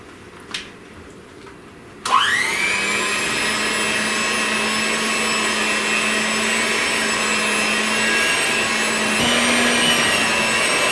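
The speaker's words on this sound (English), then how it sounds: "Now I'm going to take my electric mixer." An electric hand mixer whirs loudly and steadily as it combines chocolate peanut butter bundt cake batter, switching on abruptly after a brief knock and running continuously with a slight pitch shift near the end.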